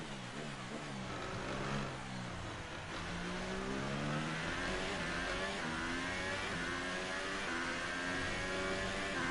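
A Formula 1 car engine from the F1 2018 racing game screams continuously through a qualifying lap at the Italian Grand Prix, its loud, steady whine rising and falling through gear changes with no talking.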